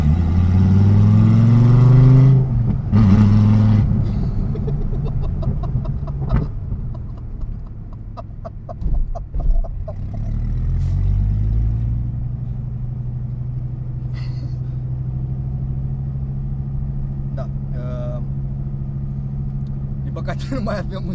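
A Dodge Viper GTS Hennessey 700R revs and accelerates, its deep engine rumble swelling and then settling into a sustained drone on a road, with someone talking over it.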